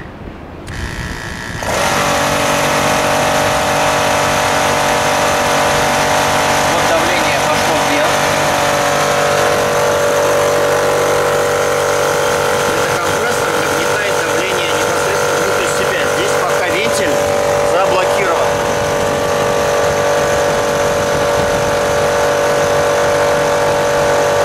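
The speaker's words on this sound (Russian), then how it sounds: "Закрутим стравочный винт, включаем компрессор" A cheap high-pressure diving air compressor starts up and runs, a loud steady mechanical drone with a tonal hum that continues unbroken at close range.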